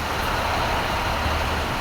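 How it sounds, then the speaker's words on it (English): Heavy buses and traffic rumble along a city street outside the Cleveland Public Library, a steady broadband roar of engines and road noise at moderate level. "As you can see, there are a lot of buses."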